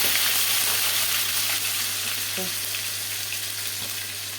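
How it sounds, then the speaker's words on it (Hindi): Ginger and garlic sizzle in hot oil for a tadka, a steady, fairly soft frying hiss that runs unbroken with a brief utensil clink partway through. "यहाँ पे जो हमारा अदरक लहसुन है वो हम तड़का लेते हैं"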